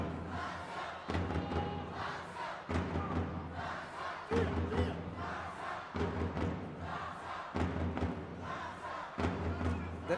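A large crowd of French supporters at the junior mixed-team world championship final, France versus Japan, in Dushanbe, cheering and chanting loudly in rhythmic surges with repeated heavy thumps throughout.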